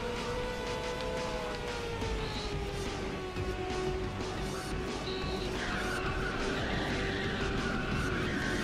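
A racing car in Ridge Racer 6 drives on nitrous boost, its engine a steady sustained drone that rises in pitch, with skidding tyre noise layered over it throughout.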